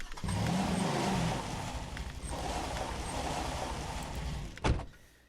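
Car driving in a spooky video game, with a steady engine drone and road rumble, a brief swell mid-clip and a sharp clunk near the end.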